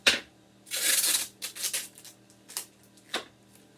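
Close, quiet snips and crunches of scissors cutting material, in a few short irregular bursts separated by silence.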